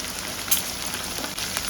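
Paneer frying in oil with a handful of curry leaves, a steady, fairly loud sizzle with no voices.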